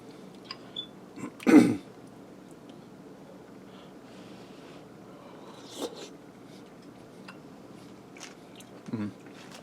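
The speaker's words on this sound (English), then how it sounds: "Try a little bit of this cheesy bread with the soup." Cheesy bread eaten with French onion soup gives a few brief, close bites and soft chewing noises, separated by quiet gaps.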